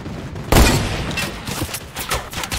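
A heavy opening blast followed by a run of quick repeated shots from a turret in the video game Fortnite, loud and close, with no voices over it.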